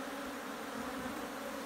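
A steady, dense buzz of many agitated honeybees during a hive split, droning continuously at close range, with no talking.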